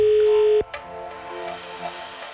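A telephone call is placed from a radio studio: a steady electronic line tone holds for about half a second, then cuts off abruptly into a low, hissing open line.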